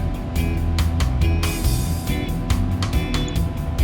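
Steady loud roar of Boeing 737 jet engines in the X-Plane 11 flight simulator, a continuous broadband drone with periodic bursts of hiss layered over it, no voices.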